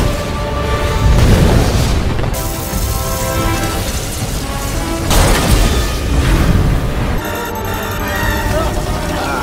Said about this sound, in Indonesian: Hingga akhirnya roket pun meledak.